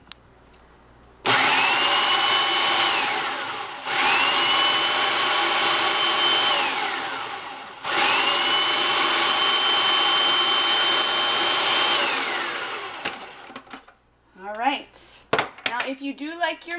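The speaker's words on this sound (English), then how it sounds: "If you do like your salsa a little bit more pureed, feel free to keep going with that food processor" A food processor pulses homemade salsa in three long loud bursts, each with a steady whirring drone. Brief clatter and handling noises follow after the last burst.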